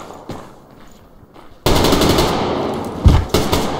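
AK rifle fire in the online shooter Survarium bursts in loud and close after a quiet moment, a dense rapid stream of shots with a couple of sharper cracks near the end.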